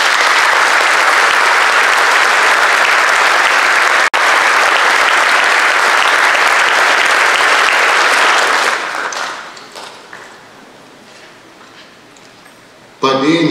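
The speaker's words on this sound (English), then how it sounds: "Let's give them a round of applause." Loud, dense crowd applause at a police academy graduation ceremony, sustained for about nine seconds, then fading to quieter scattered clapping and room noise, with a brief loud burst at the very end.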